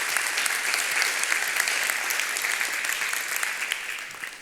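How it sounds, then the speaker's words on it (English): An audience at a tech talk on emerging markets claps warmly for the hosts, a dense, steady round of applause that holds strong before tapering slightly at the end, with no voices over it. "I want us to give a big round of applause"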